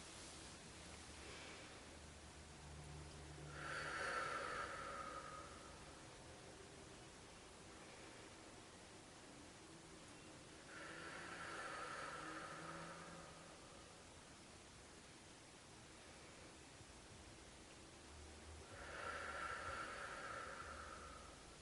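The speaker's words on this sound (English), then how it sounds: "we're going to take some deep breaths" Three slow, deep breaths drawn in and let out at a calm, even pace during a prayer, soft and close with long quiet gaps between them and no talking.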